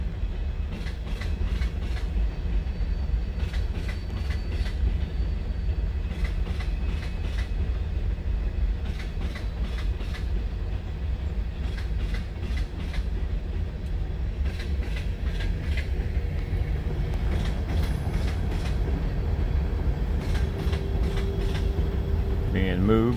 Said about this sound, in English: Being moved by 5 Union Railroad switchers.